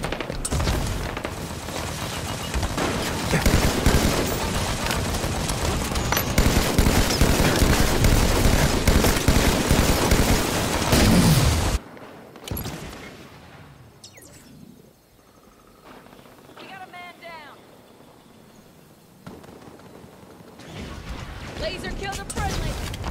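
Heavy gunfire and booms from a Halo Warzone battle, a dense loud barrage for about twelve seconds that cuts off abruptly to quieter ambience with scattered distant shots.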